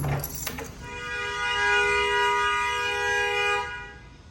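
Car horns honking in New York City street traffic, a short toot followed by a long, loud, steady horn blast lasting a few seconds.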